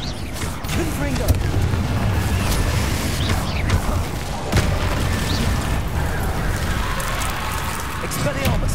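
A Confringo fire spell explosion in the game Hogwarts Legacy, a dense burst of booming blasts and crackling impacts running throughout, loud and close, mixed with game effects and a person talking over it.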